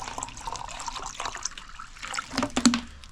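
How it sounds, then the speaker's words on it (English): Water pours into a bottle of flavoured drink, a soft trickling, gurgling stream at close range that fills steadily with a few small splashes and no talking. "Let's get the water in."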